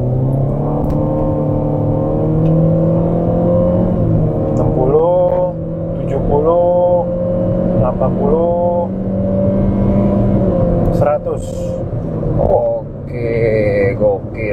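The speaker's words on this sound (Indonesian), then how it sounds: "Jadi dari RPM benar-benar kosong, kita gas full" A car pulling away at full throttle from zero rpm in sports mode, engine rising and shifting through several gears with a loud steady drone, while people talk over it inside the cabin.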